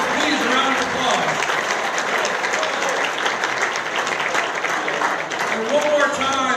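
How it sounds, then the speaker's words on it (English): An evening event crowd gives loud, continuous applause throughout, with cheering and crowd voices mixed into the dense clapping. "Please, a round of applause."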